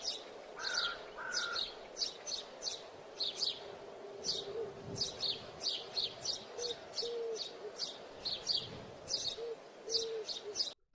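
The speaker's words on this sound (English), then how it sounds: "birds sound effects." A birdsong sound effect plays back as a steady run of repeated chirps and tweets, fairly faint, with a low coo-like tone underneath and no talking.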